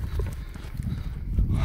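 A hand-raised stallion on a Kyrgyz farm clops its hooves close by in a quick, uneven rhythm, with faint background noise around it.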